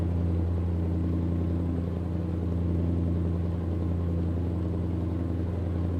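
A heavy truck engine in Euro Truck Simulator 2 drones steadily with a low, constant rumble and a hum of harmonics, no talking over it.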